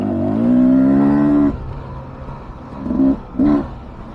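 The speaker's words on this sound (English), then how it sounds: "such a good bike, such a good motor. Even if it is running just slightly bit sputtery." A 2023 Beta 300 Race Edition motorcycle engine runs slightly sputtery, giving a loud, steady drone that suddenly cuts back, then comes in two short, uneven bursts near the end.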